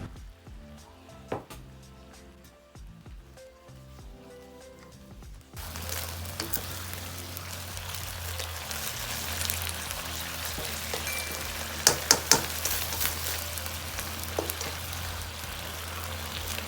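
Minced chicken frying in a pan for Thai Pad Kra Pao, a steady dense sizzle that starts abruptly partway through and continues loud and even. A few faint clinks sit on top, and no one speaks over it.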